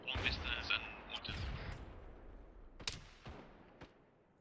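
Anti-aircraft gun in ARMA 3 firing a few sharp, separated bursts that land as distant, muffled cracks and booms over a low battlefield rumble, fading between shots.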